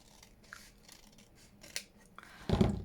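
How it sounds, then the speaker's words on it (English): Scissors snipping paper while making a junk journal: soft cutting sounds build to one sharp, louder snip at the end, close and alone without talk. "So I'll just snip that off"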